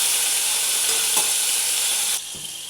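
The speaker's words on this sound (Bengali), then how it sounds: "পনিরটা একটু আমি লালচে করে ভাজবো" Paneer pieces fry and sizzle in hot oil in a pan with a bright, steady crackle, and a brief stir or scrape comes near the end as the sizzle drops.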